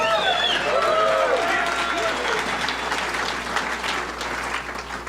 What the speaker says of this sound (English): Yeah, clap it up for him.